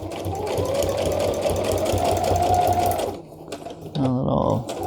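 Sewing machine fitted with a universal needle stitching through handmade paper, a steady fast motor whir running loud for about three seconds, then stopping as slower handling and clicks follow.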